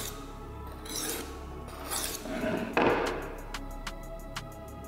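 A D2 steel knife blade stroked across a diamond sharpening stone, giving rough rasping scrapes in bursts followed by a run of short sharp taps, close and fairly quiet with no talking.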